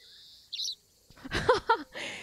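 Chirpy bird calls in the video game Alba: A Wildlife Adventure, a few short, bright tweets in quick succession, near and clear against a quiet background.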